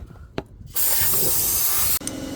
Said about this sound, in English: now that we've scraped off a lot of the stuff on there, we're gonna douse her some spritzer